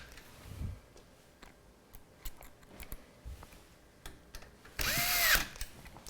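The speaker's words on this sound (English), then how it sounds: "when the screwdriver hits that torque setting, it just shuts off" A cordless electric screwdriver drives screws into a Phanteks Enthoo PC case during a build, with scattered light clicks and handling taps before one short, loud whir near the end, close up.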